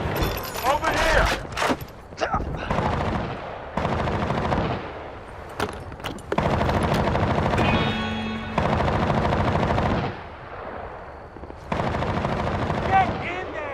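Sustained machine-gun bursts and scattered gunshots from the war video game Battlefield: Bad Company, set in a fight against Russians, fill the scene loudly and continuously, with shouted voices breaking through the gunfire.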